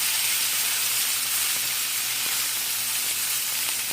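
Filet mignon searing in a hot pan, giving a steady, loud broadband sizzle and hiss that runs unbroken with faint crackles throughout.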